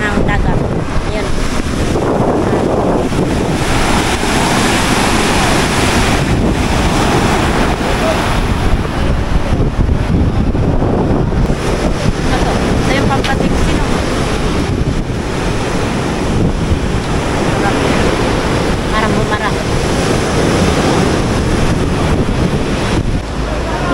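Ocean waves crashing on a shore where people haul a heavy boat ahead of an approaching storm, a loud continuous roar of surf with strong wind buffeting the microphone throughout.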